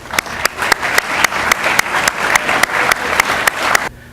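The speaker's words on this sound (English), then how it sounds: "Please give them a round of applause." Applause for the Swindell family at a class of 1981 alumni speaking event, even crowd clapping with several sharp individual claps standing out, close and clear until it cuts off abruptly at the end.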